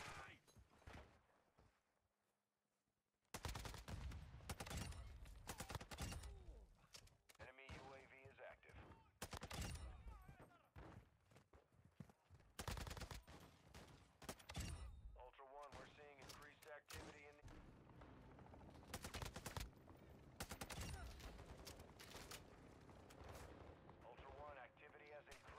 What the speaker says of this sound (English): This with my own shotgun is really OP.